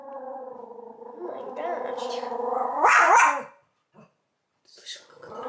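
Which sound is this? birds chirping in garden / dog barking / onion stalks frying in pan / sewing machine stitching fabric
dog barking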